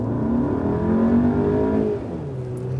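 Sedan accelerating hard in sport mode from about 20 km/h without downshifting, from a comparison of the Skoda Superb, VW Passat B8 and Mazda6 facelift; a steady, loud engine drone climbs in pitch, easing off near the end.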